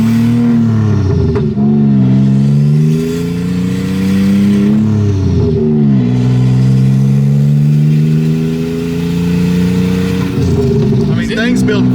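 A turbocharged LFX V6 swapped into a Volvo wagon drones loudly from inside the car, its engine note rising and falling through several pulls and gear changes, with voices heard faintly over it.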